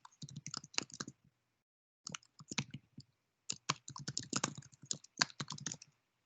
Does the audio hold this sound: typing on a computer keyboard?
yes